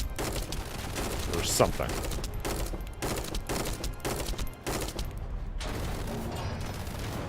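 Rapid bursts of video game gunfire, repeated volleys and mechanical clatter in an uneven rhythm, with a person talking over the shots.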